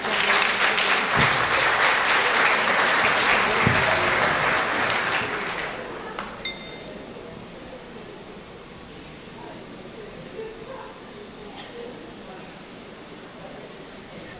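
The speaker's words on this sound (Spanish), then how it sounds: "Un fuerte aplauso, la despedimos con un fuerte aplauso" An audience at a nursing congress in Tacna gives a farewell round of applause, loud and dense for about six seconds before fading into quiet room murmur and faint rustling.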